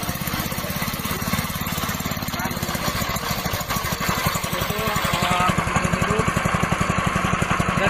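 A pellet press machine's engine runs with a rapid, steady mechanical chugging that grows louder toward the end, close by, with someone talking in the background.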